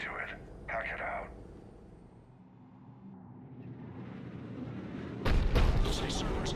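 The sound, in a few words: Cerberus cannon firing in Mass Effect 3 video game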